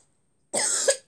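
A single sharp cough from a person, close and loud, after a moment of silence.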